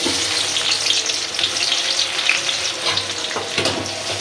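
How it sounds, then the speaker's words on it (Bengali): Onions drop into hot oil in a pan for cooking taro leaves with shrimp, and a loud, steady sizzle of frying fills the whole stretch without any voices. "তেলও দিয়ে দিছি গরম হয়েছে পেঁয়াজ দেবো"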